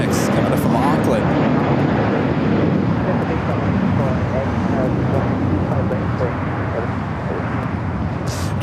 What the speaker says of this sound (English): Air New Zealand in the all-white livery heading into the gates